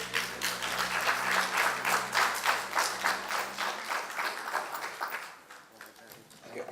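An audience applauds contestants at an oratorical contest, a dense, steady round of clapping that carries on for several seconds before thinning out toward the end.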